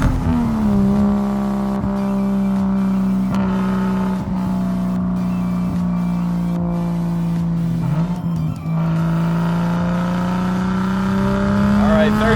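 A Nissan Skyline R34 GT-T sedan engine drones loudly from inside the car as it pulls through the revs, with a brief dip and rise at a gear change before climbing steadily again.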